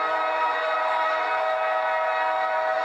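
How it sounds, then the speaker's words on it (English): A loud, sustained train horn sound effect blares without a break for about three seconds, played at an American football game for a Dallas Cowboys running back, steady and alone with no voices. "The train, baby, blow that train. I want to see that horn coming off."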